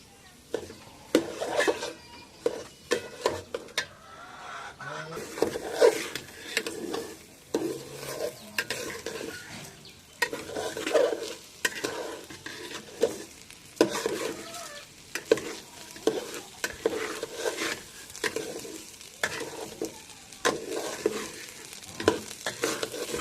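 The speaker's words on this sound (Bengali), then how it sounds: "স্বাদ মতো লবণ এবং চালটা সুন্দর করে ভাজতে থাকবো" Rice and salt frying for biryani in a pan, stirred with repeated scraping strokes over a steady sizzle, close and moderately loud, with no one talking.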